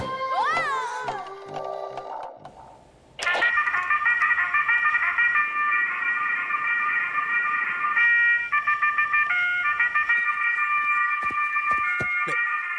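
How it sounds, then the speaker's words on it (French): Cartoon alarm clock ringing with a loud, continuous electronic warble that starts abruptly after some brief sliding cartoon sounds and keeps going steadily. "Mais c'est mon réveil!"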